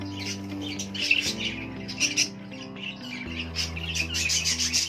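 An Indian ringneck parakeet gives sharp, repeated squawks and chirps close by over a steady background hum, in a lively, irregular run of calls.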